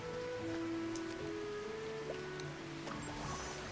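Steady rain patters in the video game Kitaria Fables, a soft continuous hiss with faint tonal game music lines running beneath it, no voices.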